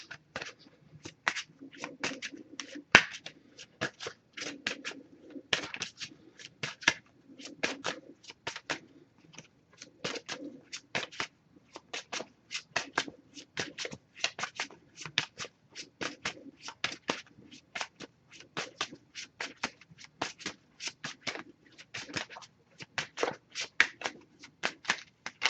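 Oracle cards are shuffled by hand, a long run of quick papery riffles and taps in a steady rhythm, close and clear with no talk.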